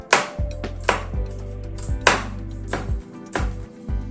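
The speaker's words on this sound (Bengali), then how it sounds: "এগুলোকে চপ করে নেব।" Almonds, pistachios, cashews and dates chopped into small pieces with a knife on a board, sharp, close thuds in a steady rhythm of about six strokes, each with a brief ringing tail.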